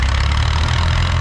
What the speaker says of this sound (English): Big four-cylinder petrol-linked kerosene engine